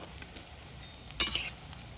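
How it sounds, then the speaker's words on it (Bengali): Carrot sweets fry over low to medium heat in a pan, a quiet sizzle broken near the middle by a brief louder burst of spattering or stirring. "যখন ইনি মিষ্টি ভাজবেন একদম হাই হিটে জাল দেবেন না লো টু মিডিয়াম আছেই মিষ্টিটা ভেজে নেবেন"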